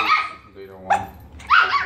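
A dog barks a few times from inside an enclosure, short yips and growly barks mixed with people's voices nearby.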